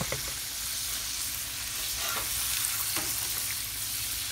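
Burgers with onions sizzling on a Barrel House Cooker 18C griddle, a steady close hiss broken by a few scraping spatula strokes as patties are scooped up, no voices.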